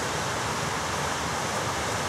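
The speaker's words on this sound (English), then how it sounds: "The small waterfall referred to in point 29 of the text." Steady rushing water, a continuous broadband splash and hiss with no pauses, like a small cascade heard up close.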